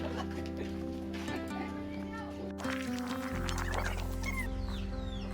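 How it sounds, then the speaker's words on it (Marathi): Village hens cluck around a farmhouse in the countryside, scattered calls rising now and then beneath people talking nearby. "या कोणत्या कोणत्या आहेत कोंबड्या?"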